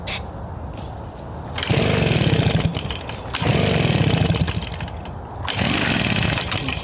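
A RedMax EBZ 5150 commercial backpack blower with a fuel-starvation fault is pulled over with the choke off. It makes three loud, rough bursts of sputtering as it tries to start but never catches, with quieter gaps in between.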